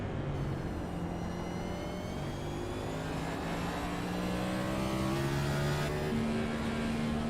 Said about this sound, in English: Oh, he shifted down.